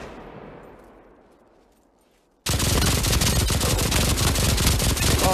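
A WWII MG42 machine gun in the shooter Pavlov starts up after a fading echo, then fires a fast, continuous, very loud close burst of rounds that lasts for several seconds.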